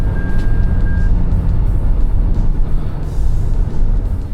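A Toyota Innova Hycross ZX hybrid runs with its engine droning loud and steady, a low rumbling hum under road noise with no clear rise and fall from throttle on and off.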